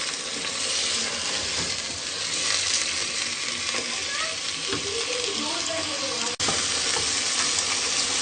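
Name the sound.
chicken korma frying slowly on low heat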